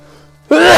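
A single sudden, loud sneeze bursts out after a quiet moment.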